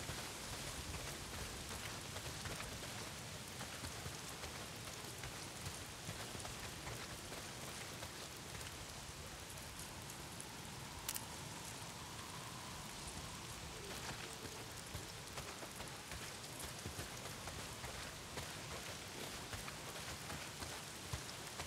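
Heavy rain pours steadily in the video game Days Gone, a dense, continuous hiss of drops close around the listener with no breaks, occasional faint ticks of individual drops standing out from the wash.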